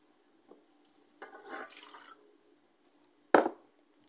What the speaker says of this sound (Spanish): Ahora vamos a pasar a agregar lo que es un vaso de agua.